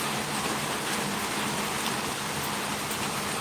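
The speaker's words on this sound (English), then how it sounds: "Can you guys hear me okay with this rain on the roof?" Steady rain drums on a house roof early in the morning after a thunderstorm, a dense, even patter that fills the whole stretch with no pause and no voices.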